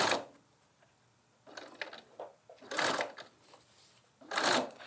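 A sewing machine stitching over the straps of a lined tote bag, running in several short bursts of whirring separated by quiet pauses, close and moderately loud with no voices.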